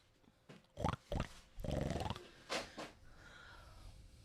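A man imitates a pig with his voice, producing a series of close, nasal grunting oinks and snorts in irregular bursts, ending in softer breathy noise.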